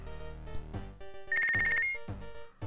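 A telephone rings in the Punch Club video game, a bright electronic ringtone sounding in short bursts with pauses between them, loud and clear with no talking.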